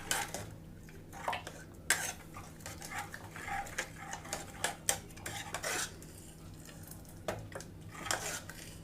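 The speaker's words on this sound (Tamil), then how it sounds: "கரண்டியில் இப்படி கிண்டி விட்டாலே போதும்" A ladle stirs and mashes cooked fenugreek leaves and lentils in a metal pot, giving scattered metallic clinks and scrapes close by over a low steady hum, with no talking.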